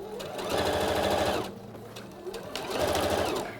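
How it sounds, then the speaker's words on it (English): A sewing machine runs two fairly loud bursts of topstitching on a trouser pocket bag, with a short gap between them. The stitching hum is clear and close, with no talking. "So I'm just almost pushing the fabric in as I sew it."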